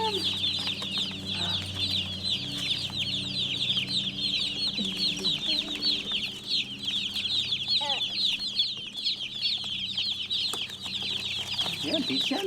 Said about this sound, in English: Oh, look at the chicks.